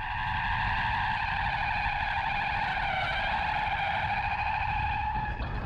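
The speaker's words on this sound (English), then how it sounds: "Watch how happy the GT is to destroy tires in short order." A 2023 Kia EV6 GT electric car drifts on a track, its tires screeching in a loud, sustained wail with wavering pitch and no engine roar, alongside a low rumble of road noise.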